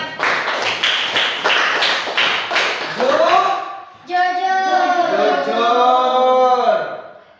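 A classroom of children clap their hands together in a quick rhythmic burst of several claps, followed by a group of young voices chanting in unison.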